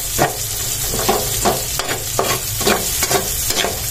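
Onion and garlic fry in a pan for ginisang corned beef with potato. A constant loud sizzle is punctuated by regular spatula strokes scraping the pan about twice a second, heard up close.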